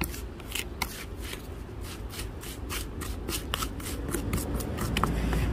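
Nelsol soil mix is kneaded with water by hand for planting succulents, giving close, continuous gritty rustling and rubbing with soft slaps and no talk.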